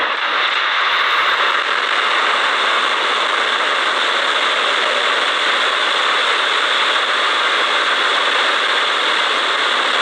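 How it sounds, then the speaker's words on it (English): A SpaceX Falcon 9 rocket ignites and lifts off on the SXM-8 mission, giving a loud, continuous broadband roar that holds steady throughout with no voices. "Ignition and liftoff."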